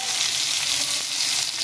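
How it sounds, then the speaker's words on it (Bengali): Chopped tomatoes frying in a pan with bay leaves, a steady close sizzle that stays dense and even for the whole moment, with no voices over it. "টমেটোগুলো একটু ভাজা ভাজা হয়ে গেছে"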